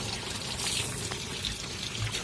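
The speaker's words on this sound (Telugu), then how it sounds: "ఇలా నేను పైప్ వేసి పట్టేసుకుంటాను నీళ్ళు" Water pours from a pipe into a drum in a continuous, even gush, close and moderately loud, with no voices.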